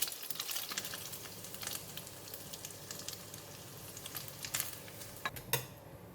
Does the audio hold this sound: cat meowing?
no